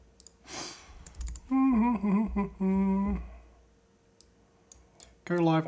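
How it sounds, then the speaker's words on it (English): Clicky keystrokes on a computer keyboard while working on a Python MMO game server, short bursts of typing and clicks between stretches of nearby talking. "God, I'm still not used to this keyboard."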